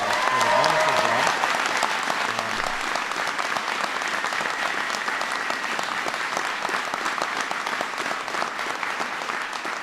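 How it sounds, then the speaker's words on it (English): An audience gives sustained applause for Tolu at an immigration reform speech, a dense, even clapping that fills the room, with a brief voice early on. "please give Tolu another round of applause for the wonderful job."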